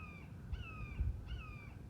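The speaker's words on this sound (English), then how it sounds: "We have a hawk here hunting" A hunting hawk gives three drawn-out, slightly descending screeching calls in steady succession, heard clearly over low rumbling wind noise outdoors.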